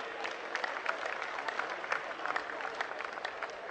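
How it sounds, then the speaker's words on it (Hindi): Applause from the audience at a Holi celebration poets' gathering in Fazilpur village, a steady moderate patter of many hands clapping for the whole stretch, fairly even with slight swells. "मित्रों एक बार जोरदार तालियां हो जाए"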